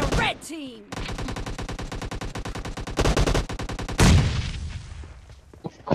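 Rapid automatic gunfire in a battle royale mobile game, long sustained bursts with a short break, loud and up close, followed by a pause with faint clicks and light talk.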